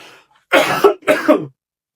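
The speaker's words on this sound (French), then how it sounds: "excusez-moi pour la toux" Two harsh, close coughs in quick succession, loud and alone in an otherwise quiet space.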